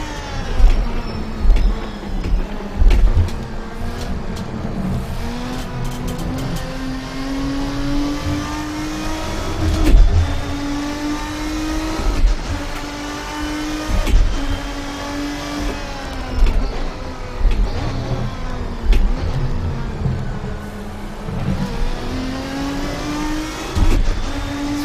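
A GT race car engine in the video game Assetto Corsa, revving hard and steadily through gear changes, the pitch climbing and dropping with braking and acceleration, loud and continuous with no talk.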